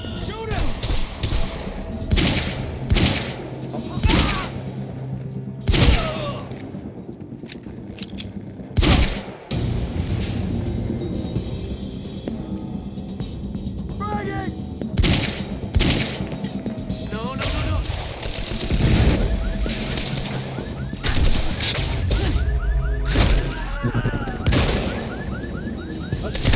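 Rapid gunfire in the shooter Quantum Break, sharp repeated shots and bursts spread across the whole stretch over continuous rumbling action noise, with occasional voices shouting amid the firefight.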